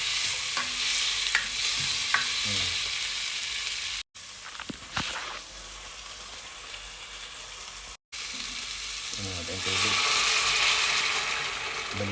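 Aromatics sautéing in a pan for corned beef sinigang make a steady close sizzle, broken by stirring clatter and two brief silent cuts, then a louder burst of frying near the end, with no speech.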